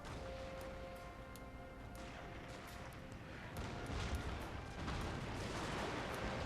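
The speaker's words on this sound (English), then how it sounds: "That's pretty well placed bombardment." Artillery bombardment in Total War Shogun 2 Fall of the Samurai rumbles faintly, with scattered distant booms and crackling impacts that swell slightly toward the end.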